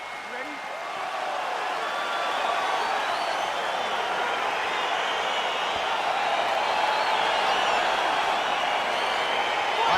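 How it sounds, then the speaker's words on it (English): A steady, excited arena crowd roars through a UFC 294 middleweight fight simulation between Khamzat Chimaev and Paolo Costa, swelling slightly early on and then holding a constant broad murmur and cheer under commentator-style talk. "Crowd getting excited as this fight gets underway"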